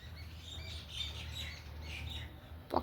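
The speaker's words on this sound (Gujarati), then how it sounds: "પક્ષીનો અવાજ આવે છે, પક્ષી બધા બોલે છે." Birds chirp and squawk faintly outdoors on a calm, foggy day at a rural home, scattered light calls over a low steady hum of background noise.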